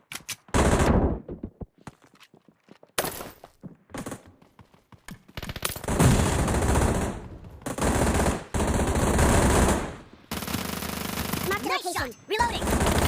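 Video game gunfire between blue and enemy teams: loud, dense bursts of automatic fire and single shots, some stretches continuous, separated by brief gaps, with game voice callouts between bursts.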